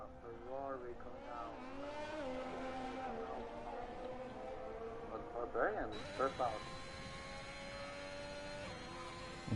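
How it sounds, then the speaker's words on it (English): A Ferrari and an Alpine rally car pull out in a race in Mexico, their engine tones rising and shifting at mid distance under a steady background drone while voices talk over them. "But now we can see a Ferrari coming out"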